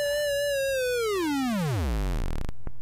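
A synthesized square wave tone, buzzy and rich in harmonics, glides steadily downward in pitch until it drops into a low rumble and cuts off, followed by a short click, with no voice present.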